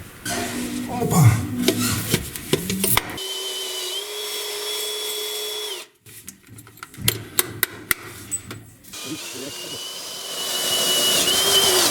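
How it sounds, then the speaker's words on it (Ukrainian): A cheap, weak cordless drill with a 30 mm bit whines at a steady pitch, bores into aerated concrete in a boiler room for a few seconds and stops, then runs again in short bursts amid scraping and clatter. "Такий дешевенький, слабенький шуруповерт справляється з буром на 30 мм."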